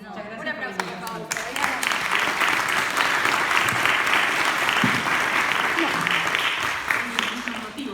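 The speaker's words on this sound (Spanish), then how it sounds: "Un aplauso, por favor." An audience bursts into sustained, dense applause after a voice at the start, the clapping loud and steady for several seconds before starting to taper near the end.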